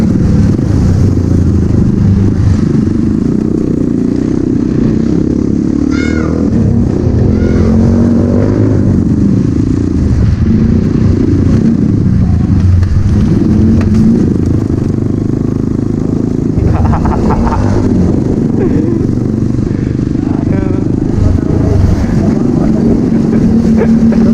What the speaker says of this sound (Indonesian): Motor yang nggak ada remnya.